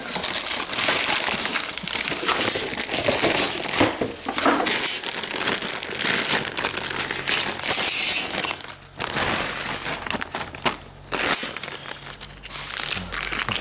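Plastic bag crinkling and crushing up close during suspension repair work on a car, busy irregular rustling bursts that keep going with brief pauses, no speech.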